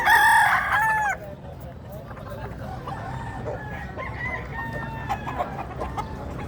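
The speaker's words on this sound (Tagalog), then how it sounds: "ang daming manukan mga boss. Nandito rin maraming manok." Chickens and a rooster at a poultry farm with many fowl, a loud near crow at the start followed by steady clucking and more distant crowing throughout.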